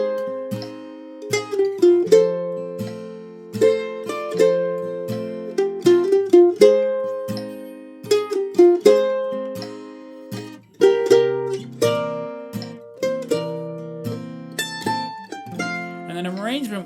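A mandolin plays the B part of a waltz in an advanced lesson, picking clear plucked notes and double stops in waltz time with a tremolo flourish near the end, solo and close.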